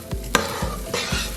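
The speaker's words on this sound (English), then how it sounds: "So all we're gonna do is just mix this up" White rice being stirred in a pot while toasting for Mexican tinga tostadas: a few distinct scraping strokes over a soft background sizzle, close and fairly loud.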